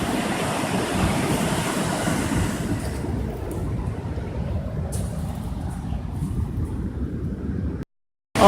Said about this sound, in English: There's some big waves out there on Lake Michigan